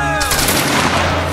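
A loud, fast burst of gunfire in a Roblox campaign battle lasts about a second, with a sharp crack followed by a ringing tail.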